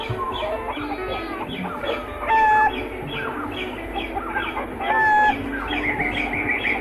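Animated farm scene with a rooster crowing twice in clear rising calls, set against a steady bed of clucking chickens and other fowl, fairly loud and close.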